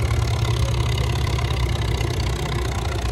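Vintage tractor engine under heavy load during a tractor pull, a loud, continuous low droning rumble with knocking texture, steady and unbroken throughout.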